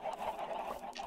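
Chickens cluck in the Minecraft video game, a run of short, repeated clucks at moderate loudness with no talk over them.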